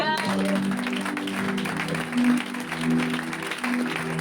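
Church congregation applauding in praise during a French-speaking worship service, a dense clapping wash under sustained organ or keyboard chords and vocal tones, steady and fairly loud.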